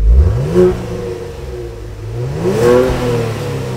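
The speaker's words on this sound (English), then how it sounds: "It sounds a lot better with variable exhaust system." A Genesis G70 engine with a variable exhaust revs up loudly twice, the throaty exhaust note climbing and falling in pitch, close and with no talking.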